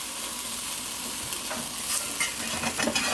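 A vegan omelette sizzles in a hot frying pan, a steady close crackle that grows busier near the end as the pan is worked and the omelette flipped, with a few sharp scraping clicks.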